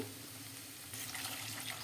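Water is poured into a pan of frying curry with onions, giving a brief close hiss and gush that gets louder partway through as the liquid hits the hot pan, with no voices.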